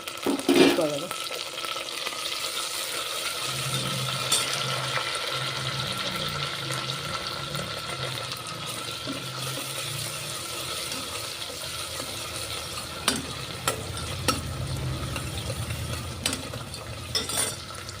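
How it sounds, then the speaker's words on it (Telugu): Onions and a small tomato sizzle in hot oil in a pan for a goat trotters shorwa, a steady frying hiss with occasional scrapes and clinks of a spoon stirring, close and moderately loud throughout. "చూడండి ఉల్లిగడ్డలు బాగా ఎర్ర వేగినాయి ఒక టమాటా చిన్న టమాటా అండి"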